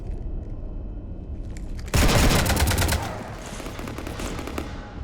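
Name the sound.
gunfire in the video game Mass Effect 3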